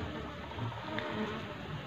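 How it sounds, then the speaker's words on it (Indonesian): A small cultivated garden bee colony gives off a steady, soft, diffuse buzzing, a low continuous drone of many wings with no single insect standing out and no talk over it. "yang penting lebah sedikit tapi bisa aktif seperti ini"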